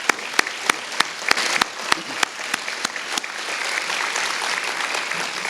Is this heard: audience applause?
yes